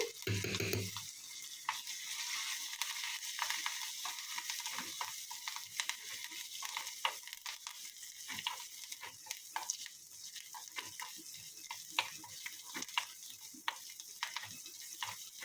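Curry leaves and dried chillies frying in a pan of hot oil: a dense, continuous crackling sizzle with scattered sharp pops, steady and close throughout.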